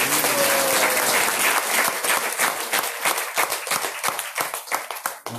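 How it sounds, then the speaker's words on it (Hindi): Enthusiastic audience applause fills a devotional Hare Krishna gathering during a Brihad Bhagavatamrita lecture, a dense, steady clatter of many hands clapping that thins into scattered claps toward the end. "आप इनके लिए जोरदार ताली बजा"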